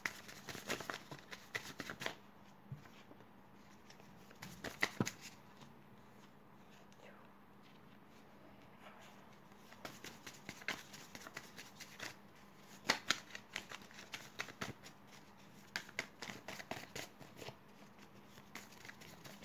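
Tarot cards being shuffled by hand: soft repeated riffles and taps come in bursts over a quiet, close room, with faint whispery sounds in between.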